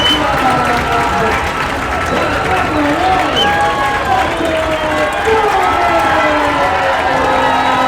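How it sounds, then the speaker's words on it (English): A sellout ballpark crowd roars and cheers after a two-run home run at a collegiate summer-league playoff baseball game, a loud sustained wash of voices and shouts with a commentator talking over it throughout. "Hear the roar of the crowd here at DCBT Ballpark, a sellout crowd."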